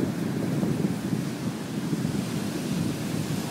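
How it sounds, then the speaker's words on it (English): Ocean surf on Long Beach Island the morning after an October nor'easter, rolling in as a steady, fairly soft wash of breaking waves with some wind noise on the microphone. "Even the surf has calmed down considerably."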